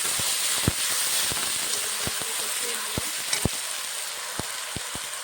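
Ginger, green chilli, garlic and cumin paste sizzles steadily in hot oil while cooking egg pulao, a constant bright frying hiss broken by scattered sharp crackles and pops, close and moderately loud with no talking.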